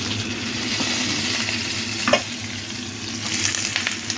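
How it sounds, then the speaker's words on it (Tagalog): Pork chops frying in a pan, a steady broadband sizzle with crackling that holds throughout, with one brief louder pop near the middle and no talking. "mag-prito na tayo"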